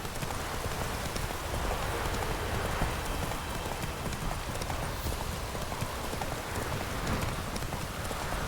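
Steady hoof clip-clop from a horse on the move in The Witcher 3 video game, heard continuously alongside the even hiss of falling rain.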